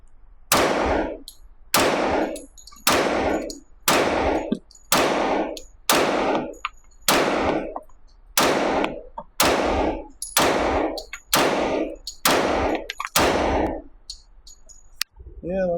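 A Ruger LC Carbine in .45 ACP fires about a dozen sharp, evenly spaced gunshots, each roughly a second apart and loud at close range, with a voice starting at the very end.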